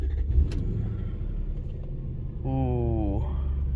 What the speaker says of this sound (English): let's crank it and see if it runs